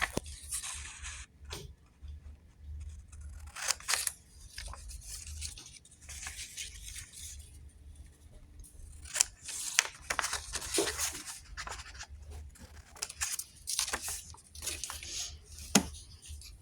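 Paper being cut out into a shape with scissors, heard as a run of close, soft rasping snips and rustles in irregular bursts, with quiet pauses between cuts.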